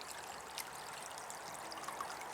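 A natural stream flows and trickles steadily at close range on a countryside walk, a constant broadband wash of water with a few brief brighter splashes and no voices.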